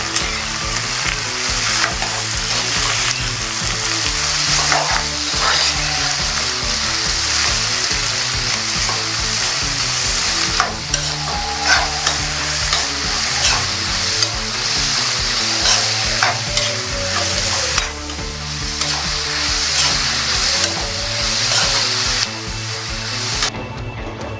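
Sliced onions with a little salt sizzle steadily in a hot pan while being stirred for an egg roast, a loud, close, continuous frying crackle with occasional scrapes of the spoon.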